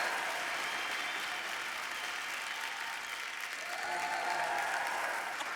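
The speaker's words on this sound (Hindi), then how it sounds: "जोरदार तालियां हो जाए" A studio audience on a televised dance competition show gives steady, sustained applause and cheering, with a faint rise of voices partway through.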